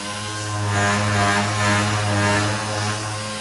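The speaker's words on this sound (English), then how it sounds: "from here forward, I'm going to sand with 500 grit on a DA." A dual-action sander with 500-grit paper works over a car body being prepped for primer and paint, giving a steady, fairly loud whirring hum that holds throughout with no talking.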